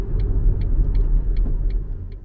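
A 1999 Daihatsu Cuore L701 driving, a steady low engine and road rumble heard from inside the small car, with a faint regular ticking repeating about every third of a second throughout.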